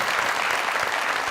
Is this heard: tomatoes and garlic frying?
no